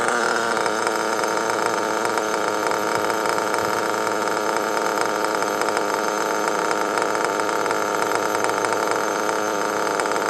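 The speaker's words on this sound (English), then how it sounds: "See, it's not idling where I want it low enough." A car engine idles higher than wanted with a constant mechanical drone and slight rattle, unchanging and fairly close, with no voices.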